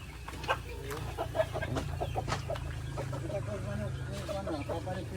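Chickens clucking on a rural farm in the Philippines, with a gamecock among the birds, intermittent short clucks and calls over a low steady hum, fairly faint, with voices talking in the background.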